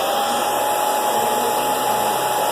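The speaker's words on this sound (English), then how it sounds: "Use my blow dryer." A handheld blow dryer drying hair runs steadily and loudly at close range, a continuous airy whir with a faint whine and no voices over it.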